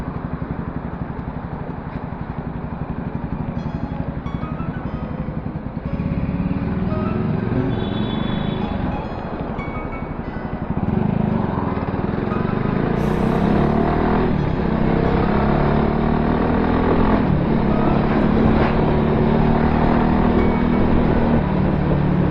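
Midday city traffic heard from a VOGE 300R motorcycle in Panama, a steady broadband road rumble with engine drone and passing vehicles, continuous and fairly loud throughout with no talking.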